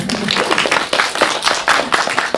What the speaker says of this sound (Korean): 막 태어난 송선우 배우님께 박수 부탁드립니다